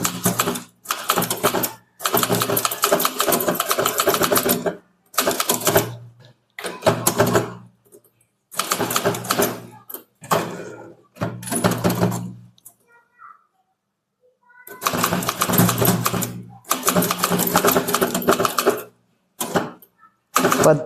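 Bursts of rapid mechanical clacking from a typewriter typing Tamil office text, with keystrokes in runs of a second or two separated by short pauses and near-silent gaps.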